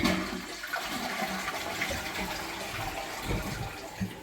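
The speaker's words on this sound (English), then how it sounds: "I'll flush that toilet again." A household toilet with a leak being flushed, giving a steady rushing of water that runs throughout at close range, with a slight swell near the end and no talk over it.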